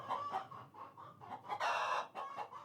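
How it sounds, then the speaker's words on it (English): Chickens on a poultry farm cluck and squawk in a busy, overlapping chorus, with a louder burst of calls partway through, fairly close and with no talking. "Chickens are always making different types of sounds"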